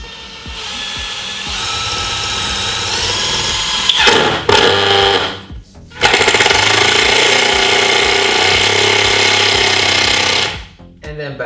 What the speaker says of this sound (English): Let's get the drill in.